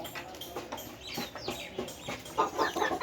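A hen clucking among backyard chickens, giving a string of quick, close clucks and squawks over a faint background, with no one speaking.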